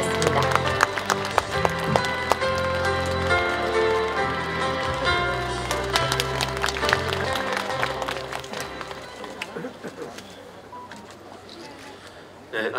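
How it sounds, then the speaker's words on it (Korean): Audience applause at a ceremony marking KTX trains stopping at Mulgeum Station, a dense patter of many hands clapping close by that gradually thins out and fades toward the end. "여러분 큰 박수로 환영해 주시면 감사하겠습니다."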